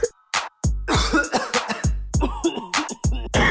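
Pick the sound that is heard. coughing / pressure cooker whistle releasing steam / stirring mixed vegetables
coughing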